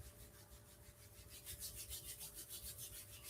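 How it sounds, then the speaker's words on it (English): Palms rubbed together vigorously to build heat during a yoga session, a rapid rhythmic swishing friction that grows louder and steadier after the first second, close and alone without talk. "Then we're gonna just rub them, creating heat through the palms."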